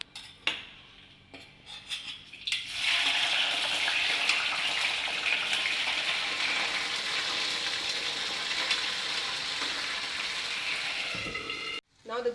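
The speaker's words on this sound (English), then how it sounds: "Now the last item is green peas. Be very careful, it splashes." Green peas frying in hot oil in a pan covered with a lid for vegetable biryani, a loud steady sizzle and spatter that starts after a few seconds of quiet clinks and runs nearly unbroken before cutting off abruptly at the end.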